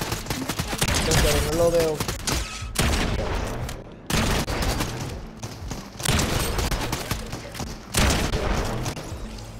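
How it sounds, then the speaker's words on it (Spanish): Gunfire in Fortnite, bursts of rapid shots clustered in loud volleys separated by short lulls, close and punchy, with a voice speaking briefly between them. "Aquí están disparando."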